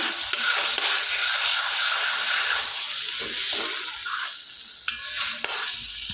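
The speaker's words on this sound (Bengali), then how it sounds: "তেলটা গরম হয়ে গেছে যে মশলাটা ভেজে গুঁড়ো করে রাখলাম সেটা অল্প দিয়ে দেবো তেলের মধ্যে একটু নাড়াচাড়া করে নেব" Roasted ground spice fries in hot oil for a green mango jelly, giving a loud continuous hiss and sizzle with occasional scraping from stirring, close and steady with no voices.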